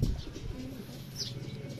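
Racing pigeons at a loft after a 94 km training flight in Lumban, Laguna give soft, low coos and a brief chirp, with faint wing flaps against steady outdoor background noise.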